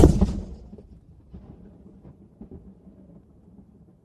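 A ceremonial artillery gun salute at the King Charles III proclamation fires one loud, close boom at the start, then a rumbling echo rolls away and fades.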